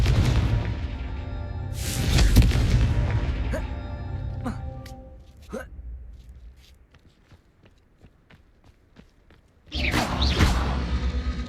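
The Confringo fire spell in Hogwarts Legacy goes off as loud whooshing bursts with booming impacts, a quieter stretch of footsteps and small knocks in between, then another heavy blast near the end.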